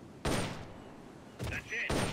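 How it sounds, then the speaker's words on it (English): Video game M16 assault rifle fire in Metal Gear Solid: Peace Walker on PSP: three short, loud, close bursts of gunfire separated by quiet gaps, one with a ringing mechanical clank. "The M16 is a standard assault rifle, capable of rapid fire."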